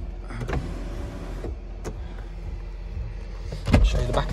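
Electric sunroof on a 2011 Range Rover Vogue SE tilting up, a short motor hum inside the car with soft mechanical clicks and a thump at the end, no talking.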